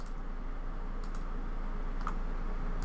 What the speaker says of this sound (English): we're going to select all of them by doing a control click